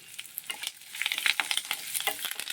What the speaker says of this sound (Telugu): కరివేపాకు కూడా పెంచుకుని వేసుకున్నాను